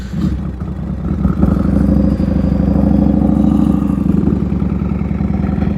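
A 1993 Harley-Davidson Softail motorcycle engine runs with a steady, loud, throaty rumble that builds slightly after the first second and holds at a constant level, close by and with no talking.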